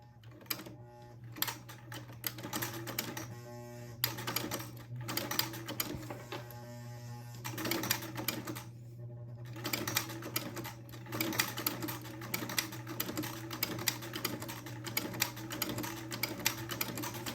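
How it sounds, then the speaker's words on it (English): A sewing machine with a buttonhole attachment stitching buttonholes on an heirloom baby garment: fast, steady mechanical rattling of the needle with a low motor hum underneath, quiet and close, briefly pausing and restarting, with no talking. "I'm going to very carefully start sewing on my"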